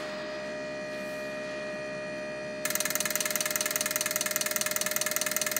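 A mechanical hum gives way to a rapid, steady clicking buzz as an ASNU fuel injector flow tester starts running, simulating 600 RPM, loud and rhythmic.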